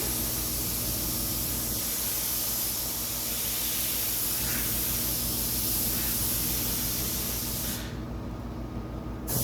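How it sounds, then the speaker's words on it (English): A paint spray gun laying down ghost flames on a vehicle, a steady broad hiss of spraying that stops abruptly near the end, close and without talk. "It's difficult to tell where you're actually spraying because the color is so close"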